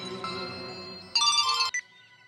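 A mobile phone ringtone chiming in a short electronic melody, fairly close and clear, with a louder burst near the end before it cuts off.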